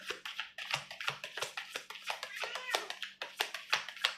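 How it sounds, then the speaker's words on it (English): A pet cat meows repeatedly in the background, short plaintive calls threaded through and under a person talking close by. "You hear my cat co-signing back there?"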